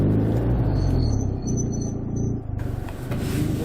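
A trike engine drives along a narrow country road, a steady loud rumbling drone that shifts slightly in pitch as it travels, close and continuous without speech.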